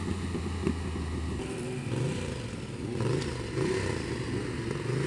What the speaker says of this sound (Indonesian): Tuh, dengar tuh suara Ducati Diavel.